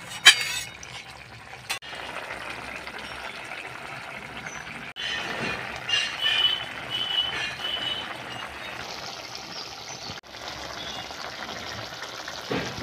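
Bottle gourd curry (lau dalna) simmers in a pan, giving a steady close bubbling and sizzling hiss with a few sharp stirring knocks, and no talk.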